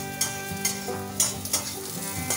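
Mushrooms browning in a hot pan for a Bengali recipe, giving a steady close sizzle broken by a few sharp stirring scrapes and spatters.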